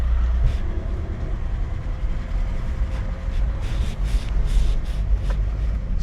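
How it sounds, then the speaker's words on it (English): Drivetrain noise from a high-mileage VW Caddy van while driving, a steady low rumbling drone with occasional faint clicks and knocks over road noise. "It's a nice sound of drivetrain."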